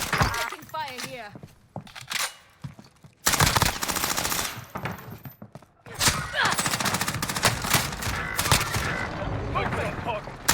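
Rapid bursts of gunfire and explosions from a Warzone battle-royale match, dense and loud with overlapping shots and crashes, while a player talks over the chaos.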